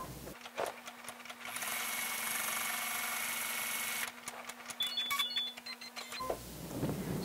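Embroidery sewing machine stitching Victorian crazy piecing in the hoop, with a steady, rapid mechanical whir for several seconds, then stopping and giving off a few beeps and clicks.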